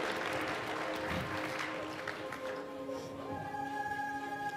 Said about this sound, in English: Let's hear a round of applause for San.